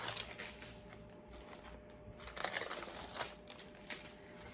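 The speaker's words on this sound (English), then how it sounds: "So let me take out the paper." Paper is pulled out and crinkled during a crafting session with a taped handmade book, giving bursts of close, dry rustling and crumpling that rise and fall over several seconds with no talk.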